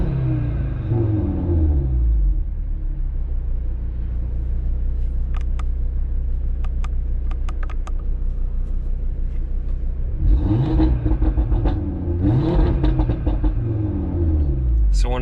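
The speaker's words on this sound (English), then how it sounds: "And this is how the car sounds with the exhaust valves open." A 2018 Audi TT RS engine with its exhaust valves open idles with a deep, steady rumble, then is revved hard twice near the end, each rev rising loud and close before falling back to idle.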